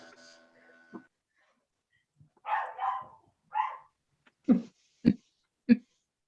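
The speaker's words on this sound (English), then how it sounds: "Sorry about that barking dog." A dog barks several times, a couple of longer muffled woofs followed by three sharp, evenly spaced barks, fairly close with quiet gaps between.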